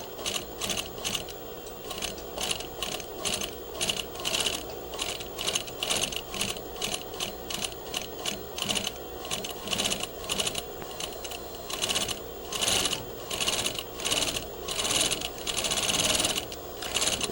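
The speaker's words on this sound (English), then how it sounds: "place a second row of stitching a press a foot away from the first row" A sewing machine runs a second row of stitching with a steady, rapid mechanical clatter and brief pauses, close and continuous with no talking.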